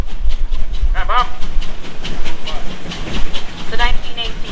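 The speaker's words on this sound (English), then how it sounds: "The 1918 Townsend tractor, 32C model." A 1918 Townsend 32C tractor running at a steam thresher reunion in Rollag, Minnesota, a loud steady rhythmic chuffing with repeated bursts, close by, over crowd background noise.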